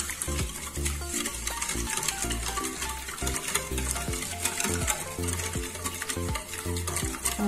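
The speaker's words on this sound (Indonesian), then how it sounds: "Kita aduk-aduk rata ya." A whisk stirs a mixture of yogurt, vegetable oil and liquid vanilla in a bowl, making a busy, continuous wet clatter and swish with a rhythmic pulse and no talk.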